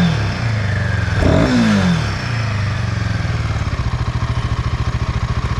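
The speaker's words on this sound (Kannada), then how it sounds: "ಗಾಡಿ ಇಂಜಿನ್ ಯಾವ ಥರ ರೇವ್ ಆಗ್ತಿದೆ" A Royal Enfield Himalayan 450 motorcycle from 2023, heard close up: the engine revs sharply once, falls back, and then settles into a steady, throbbing idle.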